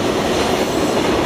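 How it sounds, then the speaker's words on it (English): A train rolls right past the Whistle Stop Cafe, a loud, steady rumble with rail clatter and a faint wheel squeal filling the whole moment close by. "the train really does run right by the cafe"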